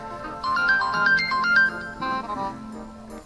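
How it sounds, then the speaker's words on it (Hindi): A phone ringtone plays a bright electronic melody, fairly close and clear, with no voices over it. "अरे ले फोन तेरा ही आ गया, सुन ले।"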